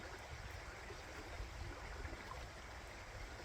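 River water runs over a rock in midstream, making a steady, soft rushing and trickling murmur. The sound stays even and quiet throughout, with no other sounds.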